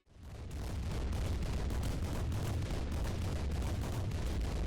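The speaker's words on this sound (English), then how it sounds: "Now each different turret type has their own shooting sounds attached to them." Turret fire in a Unity game, a fast, even stream of loud shots repeating without pause over a heavy low rumble from start to finish.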